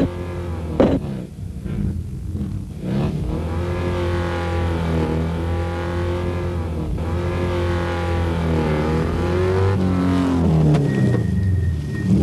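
A loud, sustained motorcycle engine roar that rises and falls in pitch as it revs, droning continuously for several seconds close by.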